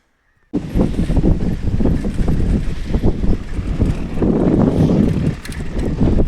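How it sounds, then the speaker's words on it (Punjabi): Heavy wind buffeting the microphone, a loud rumbling roar that starts suddenly and gusts unevenly throughout, with no talking. "ਹੁਣ ਹਵਾ ਚੱਲਣ ਲੱਗ ਪਈ"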